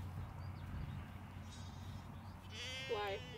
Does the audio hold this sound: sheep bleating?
yes